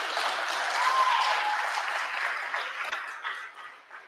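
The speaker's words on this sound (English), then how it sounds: "you can go ahead and give a round of applause for Josh" An audience claps for Josh at a startup pitch night, a sustained round of applause that holds steady and then tapers off toward the end.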